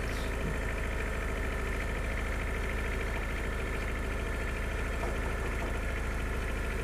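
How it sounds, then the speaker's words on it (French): A tractor engine runs steadily in the farming video game Farming Simulator 2013, producing a constant loud, droning mechanical rumble with a rhythmic chug that stays unbroken throughout. "Donc je suis pressé d'arriver avec ce tracteur."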